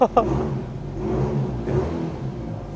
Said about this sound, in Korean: 여기서부터 가변 열리는 소리 들으셨죠? 가변 딱 열려요